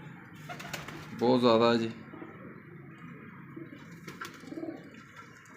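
A pigeon bought for 250 rupees coos once in a short, loud, rounded burst, with a softer coo later, while someone talks nearby.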